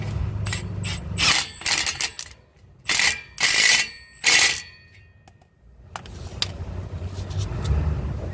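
Ratchet wrench slowly tightening a mounting part on a Dodge Charger ScatPack widebody, several bursts of quick clicking close up, separated by short pauses, with no talk.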